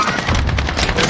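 Call of Duty Warzone gunfire and explosions blast loud and dense in a rapid, overlapping barrage that fills the whole moment with rumbling booms and cracks.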